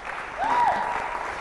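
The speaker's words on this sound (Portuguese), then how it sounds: "uma salva de palmas para ela" A TV studio audience claps for guest Patrícia Pires in a short burst of applause, with a brief tonal sweep rising and falling over the clapping.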